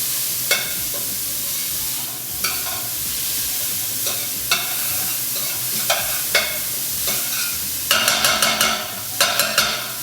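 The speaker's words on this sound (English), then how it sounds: "So we've got that onion in there, cooking up beautifully." Onion frying and sizzling in a pan for Punjabi dhaba-style chana masala: a steady close sizzle broken by sharp, regular clacks and scrapes of stirring, with a quick burst of clatter near the end and no talking.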